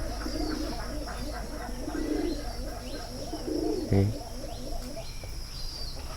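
Pet pigeons cooing at midday in a home loft during feeding: soft, repeated rolling coos close by, with faint chirps and a steady background hum throughout.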